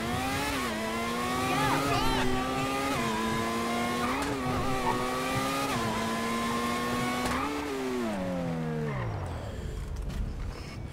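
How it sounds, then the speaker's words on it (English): Formula One car in GTA Online, a modern six-cylinder engine, holding a loud, high, steady whine that rises in steps, then drops sharply as it winds down near the end. "This is my Formula One car."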